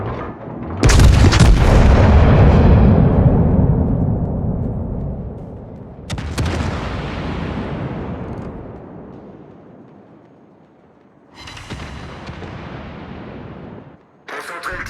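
Heavy battleship guns of the French battleship Bourgogne fire in World of Warships: three loud booming salvos, the first huge and long-rumbling, each decaying slowly, with a faint voice under the opening blast.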